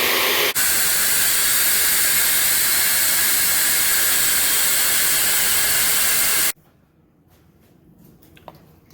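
Ingredients for a fermented smoky bourbon hot sauce being mixed give a loud, steady whirring roar that runs unbroken for about six seconds, then cuts off abruptly, leaving near-silence with a faint tap.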